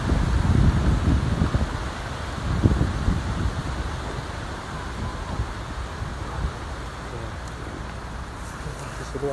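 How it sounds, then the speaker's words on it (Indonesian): Strong wind rushes through trees outdoors, with a gusty roar and rustling leaves that are loudest early on and then settle into a steadier blow. The wind buffets the microphone, and a voice is faintly present at times. "terus anginnya kencang sekali bosku"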